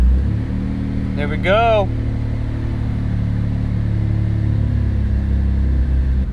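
A Mitsubishi 3000GT with a 6G72 engine on an AEM Series 2 tune makes a warm start and settles into a steady, deep running rumble, with someone speaking briefly near the start.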